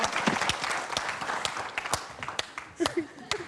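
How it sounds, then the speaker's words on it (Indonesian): An audience at a youth Q&A event claps loudly and steadily, a dense, sustained wash of applause with a few louder claps nearby, while a voice speaks faintly beneath it. "Tepuk tangan."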